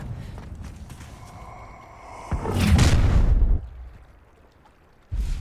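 The Incendio fire spell is cast in Hogwarts Legacy, a loud whooshing burst of flame that flares for about a second amid quieter game sounds. A second burst starts near the end.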